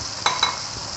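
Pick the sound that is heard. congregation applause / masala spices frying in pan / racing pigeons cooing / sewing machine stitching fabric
masala spices frying in pan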